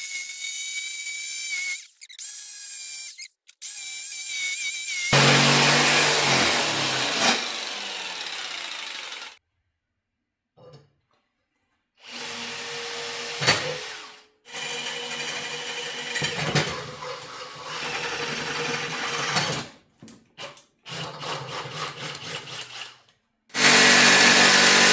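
A power tool cuts a shape out of a metal plate for a homemade motorcycle rack on a TW200, running in several loud, harsh bursts separated by short pauses.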